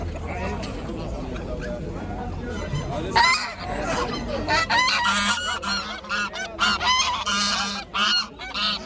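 Several geese honk loudly and repeatedly nearby in harsh bursts at the Kırıkkale poultry market in Turkey, while people talk in the background.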